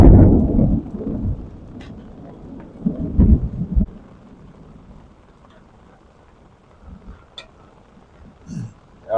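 A thunderstorm rolls over a truck camp in the Ouachita National Forest, deep thunder rumbling loudly in the first seconds, then rain hissing steadily beneath quieter distant grumbles, with a brief rumble returning near the end.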